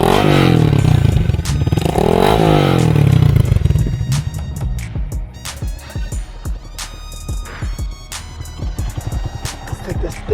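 A 2022 Honda Grom motorcycle with an Amazon exhaust and heat wrap revs loud and close, its pitch climbing and falling before it settles into a rough idle with clattering pops.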